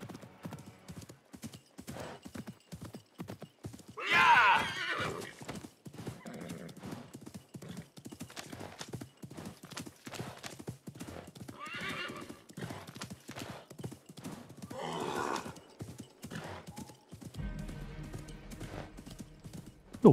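Steady clip-clop of horse hooves in Assassin's Creed Mirage runs throughout, with a couple of louder horse whinnies rising above the rhythmic trotting.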